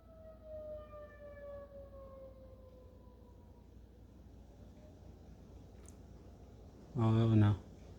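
A distant tornado warning siren in Rolla, Missouri, at night slowly winds down in a long falling wail, followed by a faint background hum and a brief loud thump near the end.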